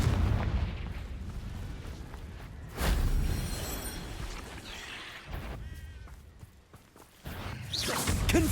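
Fiery spell blasts from Hogwarts Legacy boom and whoosh in several loud bursts separated by quieter gaps, mixed with rumbling combat effects.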